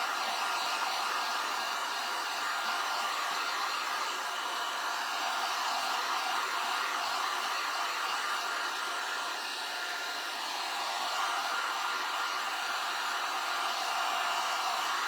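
A hair dryer blows on a whimsical watering-can craft kit, a steady, loud, even whoosh of airflow running unbroken throughout with no voices.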